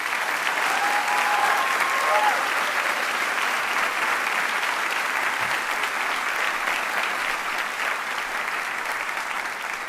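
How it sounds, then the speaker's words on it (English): A high school graduation audience applauds the faculty in a steady, sustained ovation that stays loud and dense from start to finish. "Can we please give a warm round of applause for our faculty?"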